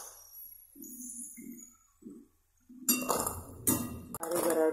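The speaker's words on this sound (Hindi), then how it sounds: "आवाज भी आने लगी टन टन, ऐसे आवाज आना चाहिए" Fried garadu (yam) pieces clink and rattle in a metal pan, a quick run of bright, close taps and jingles after a quiet stretch.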